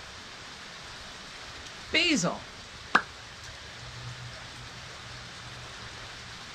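Steady rain falls outside beyond a garden, a soft even hiss running the whole time, with a brief burst of talk and a sharp click near the middle.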